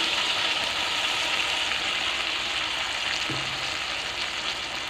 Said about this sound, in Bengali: মশলাটা দিয়ে এখন ভালো করে কষিয়ে নেব।